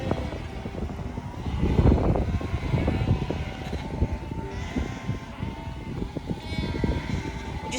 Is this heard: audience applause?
no